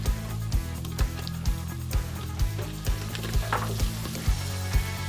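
Diced onion hits browned bacon in a soup pot, giving a low, steady sizzle broken by a regular series of soft knocks from stirring.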